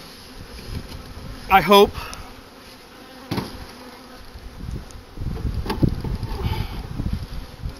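Honey bees buzz steadily around an apiary hive during a late-winter check, a soft, continuous hum with louder passes close to the microphone, under brief spoken words and light handling noise.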